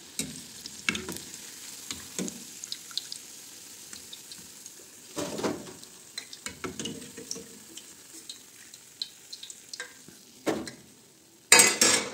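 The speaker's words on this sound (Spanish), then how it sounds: "Y seguimos friendo más." Huevitos chilenos dough balls fry in hot oil with a steady, close sizzle, broken by scraping and clinking from stirring, a few louder knocks and a sharp crackle near the end.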